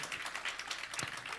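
Dense, steady applause from an audience at a live preshow fundraiser honoring donors, many hands clapping at moderate distance without pause.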